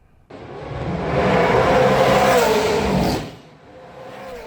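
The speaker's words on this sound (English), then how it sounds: "Roaring engines and rev heads" Supercars race engines roar past on the Newcastle street circuit, a loud sustained revving wail that swells for about three seconds and then drops away, leaving a quieter engine drone.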